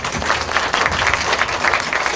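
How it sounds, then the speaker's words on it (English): Brief burst of enthusiastic audience applause at a live psychic comedy show, with many hands clapping loudly and evenly for a couple of seconds. "give them a big round of applause"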